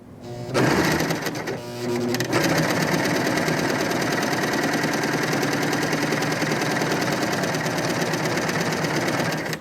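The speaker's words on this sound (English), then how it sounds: "now I'm just going to stitch on the edge of that fabric hem" A Bernette b62 coverstitch machine runs steadily as it stitches along a fabric hem, a loud continuous mechanical whir with rapid needle clatter that starts after a brief pause and holds evenly to the end, with no talking.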